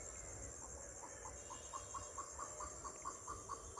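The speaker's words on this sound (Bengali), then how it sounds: "ওই যে কোকিল পাখি ডাকতেছে" A koel calls repeatedly at sunset, a steady series of evenly spaced, fairly faint notes carrying over a low background hum and rustle.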